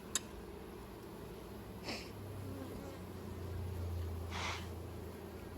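Bees humming around an open beehive box during an inspection, a faint, continuous low drone with an occasional close buzz of a single bee passing the microphone.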